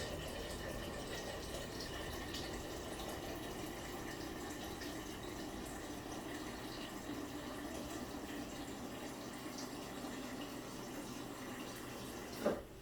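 Water pours in a steady, continuous trickle and splash, fairly quiet and close, with a small knock near the end.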